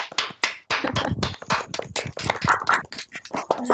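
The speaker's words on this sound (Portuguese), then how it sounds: "batemos as palmas" Participants in an online meeting clap together over their microphones, giving a close, uneven burst of overlapping claps that continues without pause for a few seconds, with no one speaking.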